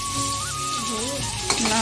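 Vegetables such as eggplant slices crackle and sizzle steadily in a pan during home cooking, a close, continuous fry with a brief clink of utensil near the end and a faint tonal background.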